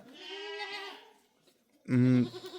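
Two goats bleat on a farm, one after the other: a longer wavering cry followed by a short pause and then a louder, harsher bleat close by.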